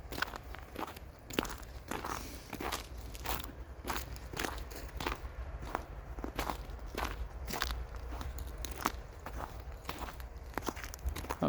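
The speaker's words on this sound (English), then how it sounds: "you can probably still hear the snow crunching underfoot." Footsteps crunch through snow in a wintry local park, a steady walking rhythm of crisp, close crunches repeating throughout at a quiet, even level.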